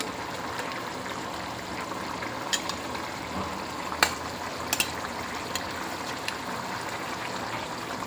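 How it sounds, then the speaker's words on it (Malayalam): Six eggs slipped into a simmering egg curry in a pan: a soft, steady bubbling hiss runs throughout, broken by a few faint clicks and plops as the eggs go in. "മുട്ട അതിനകത്തോട്ട് ഇട്ട് കൊടുക്കാം."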